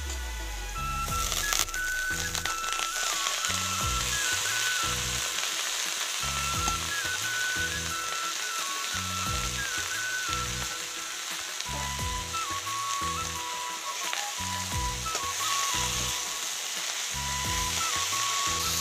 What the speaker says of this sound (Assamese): পিঁয়াজখিনি ৰঙচুৱা হৈ গৈছে, এতিয়া মাটিকান্দুৰী শাকখিনি দি লম।